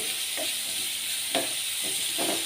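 Curry leaves crackle in hot oil with a steady hiss, punctuated by a few short louder spits spaced about a second apart.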